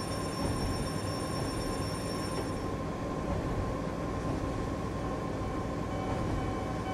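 A train on the Kurama Line in the Japanese Rail Sim video game rolls along the rails with a steady, loud broadband rumble, with no talking.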